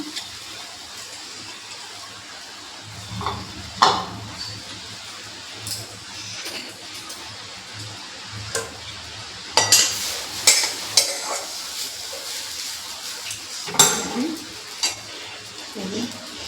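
Grated coconut filling for palm pitha cooks in a hot wok, with scraping stirs, soft sizzling and clinking utensil knocks coming in irregular bursts, loudest in the second half, with no talk.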